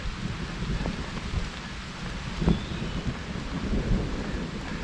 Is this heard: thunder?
yes